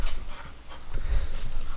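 Dogs pant close by in quick, uneven breaths with soft snorts, growing slightly louder toward the end as they draw near.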